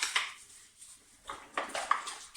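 Cutlery being washed in a sink with a brush gives faint scattered metallic clinks and light scrubbing scrapes in a few short bursts, close and quiet.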